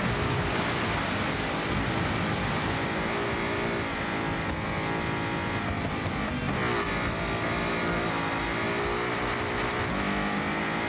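Car engine in Forza Horizon 6, a loud continuous roar rising and falling in pitch through revs and gear changes, with a brief dip around a shift midway, steady and close throughout.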